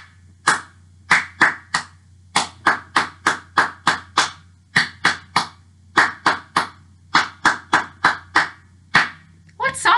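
Hands clap the rhythm of the children's song Miss White Had a Fright: a steady series of sharp, close claps grouped into short phrases with brief pauses between them, loud and with no voice over them.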